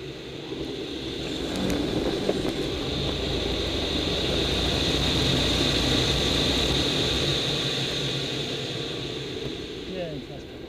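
An airplane landing makes a steady, fairly faint engine drone that swells and fades over several seconds, with a broad roar underneath.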